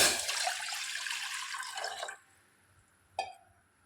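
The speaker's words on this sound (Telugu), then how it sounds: "ఇప్పుడు వాటర్ పోసుకుందామండి" A continuous stream of water pours into a pot on the stove for about two seconds, then stops abruptly, followed by a single small drip in the quiet.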